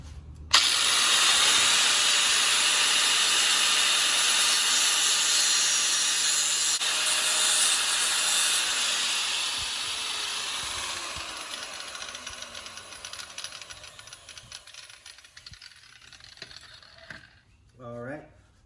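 Grinding tool cutting through the drive chain on a 2020 Yamaha Raptor 700R SE ATV: a loud, steady metallic grinding whine that runs for many seconds, then thins and fades into scattered scraping and ticks near the end, with no talking.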